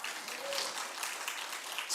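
A church congregation claps hard and continuously during a Korean Sunday worship service, a dense, even wash of applause filling the hall.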